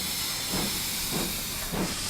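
A steam locomotive in Train Simulator hisses steadily, with soft rhythmic chuffs about every half second rising over the continuous steam noise, and no voices.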